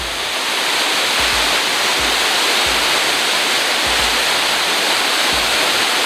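An artificial waterfall with a heavy volume of water pours down in a steady, loud, close roar that fills the whole clip, with faint low thumps underneath.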